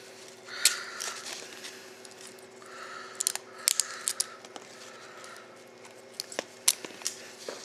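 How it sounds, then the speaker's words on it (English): Small screws being backed out of the heat sink on a Hobbywing EzRun WP80 ESC, giving faint scattered clicks and metallic ticks over a steady low hum, with no talking. "So take these four screws off."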